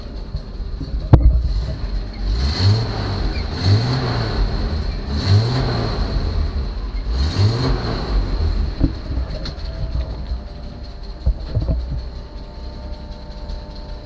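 An M715 Jeep engine running on a drive after a no-start repair, a loud, steady rumble that rises and falls in repeated revving surges, heard alone without talk.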